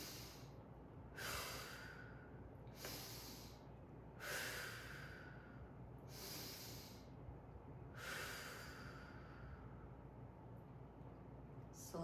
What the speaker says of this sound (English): Three nose breaths.